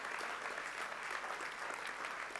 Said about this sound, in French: Vous pouvez applaudir ceux qui croient en cette bénédiction.